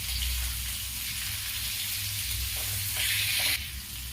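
Pieces of parboiled jackfruit fry in a pan, giving a steady, close hiss of sizzling oil with light stirring that swells briefly louder near the end; no voices.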